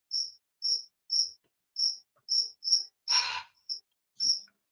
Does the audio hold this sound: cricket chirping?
yes